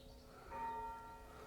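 A faint, distant church bell strikes once around seven in the evening, heard from a carp fishing lake at Marbury over quiet outdoor ambience.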